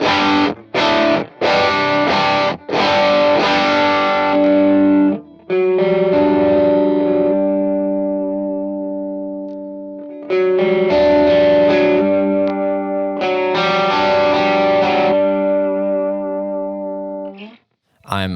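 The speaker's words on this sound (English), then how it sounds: "We jump from the Spark into the Fulltone OCD V2. It's just good at that kind of Marshall in a box sound" Electric guitar driven through a Fulltone OCD V2 overdrive pedal set as a crunchy Marshall-style boost with volume and tone cranked, on a worship pedalboard. Strummed distorted chords ring out, then a sustained chord holds, loud with no talking over it.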